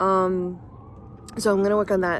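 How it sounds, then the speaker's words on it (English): A wailing police siren rises and falls in the background while someone talks over it. "Sorry for the sirens in the background."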